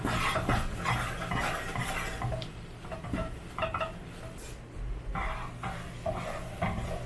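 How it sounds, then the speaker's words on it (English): A utensil stirs an egg mixture in a pan for a semolina sweet, making repeated scraping and clinking strokes against the metal along with a faint sizzle, close and uneven in rhythm. "I am just want to stir it a few times, make sure that the egg is fully cooked"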